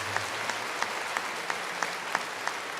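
Congregation at a church service claps in a steady rhythm, evenly spaced soft claps repeating about three times a second, fairly faint and distant in a reverberant hall.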